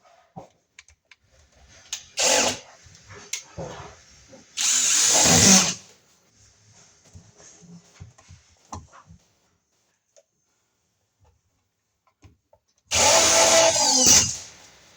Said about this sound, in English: we'll put a screw in through the side of the box